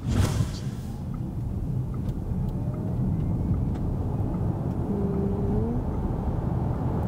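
A Volkswagen ID.6 accelerates to 100 km/h in about 9 seconds, its drive droning steadily at low pitch, holding a continuous rumble throughout with a faint rising tone as it gains speed.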